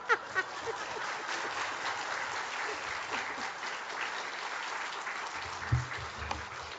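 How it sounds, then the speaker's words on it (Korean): A church congregation applauds through a women's mission dedication worship service, a steady moderate wash of clapping with a few louder claps early on, and no speech over it. "이렇게 박수까지 쳐주시고 감사드립니다"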